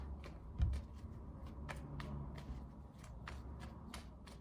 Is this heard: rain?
no